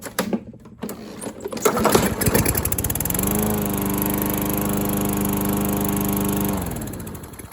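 A Toro GTS push lawn mower, fitted with a new carburetor and spark plug, is pulled over with a few rattling cranks, then catches and runs at a steady, loud drone for several seconds before cutting off.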